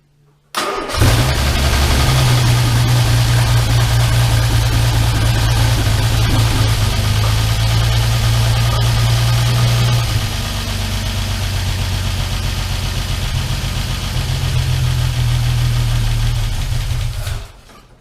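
An Armstrong Siddeley Special car engine cranks and fires, then settles into a loud, steady idle that holds close by for most of the clip before stopping.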